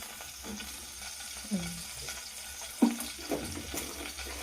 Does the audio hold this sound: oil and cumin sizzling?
yes